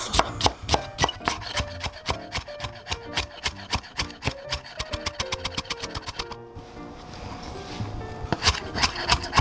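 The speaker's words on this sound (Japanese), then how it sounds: "縦のね、ザクザクとしてみじん切りにしていきます" A knife finely mincing green onions on a cutting board, rapid, even, closely spaced chopping strikes, a brief pause, then a few slower, heavier cuts resume.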